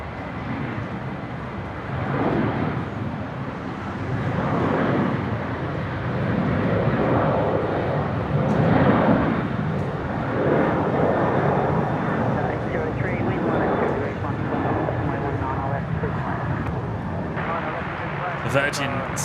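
An aircraft taking off from runway 1 at Brisbane International Airport, its engine roar swelling and holding loud and broad throughout, with people talking over it.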